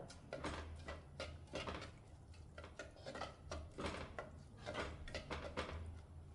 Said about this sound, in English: When the oil is heated, add in the chopped onion and give it a stir